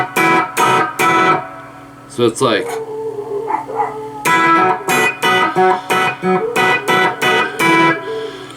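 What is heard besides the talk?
electric guitar playing a riff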